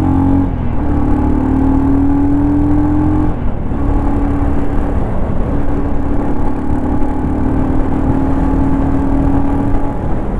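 A 2025 Royal Enfield Scram 440 motorcycle engine pulls hard under a heavy rider, its loud, close drone climbing in pitch through two gear changes with a brief dip between, wind rushing over everything.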